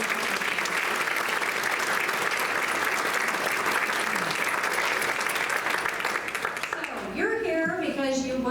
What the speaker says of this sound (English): please join me in giving a big round of applause to the magazine team and to BBC, everyone,